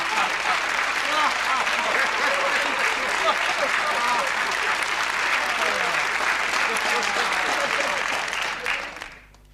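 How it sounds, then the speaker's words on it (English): Sustained audience applause for a doctor, dense steady clapping from a crowd for about nine seconds with some voices mixed in, fading out at the end. "A round of applause for the doctor."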